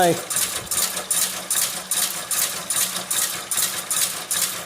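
A small, weak electric motor drives a Tolchin/Shipov inertial drive on a workbench, making a loud, rhythmic metallic clatter that repeats about twice a second.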